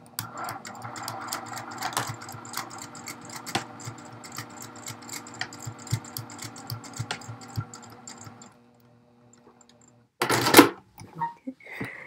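A sewing machine runs in fast rattling bursts, stitching back and forth to secure elastic on a lined tieback scrub cap, close and clear; after a short quiet pause comes a brief louder clatter.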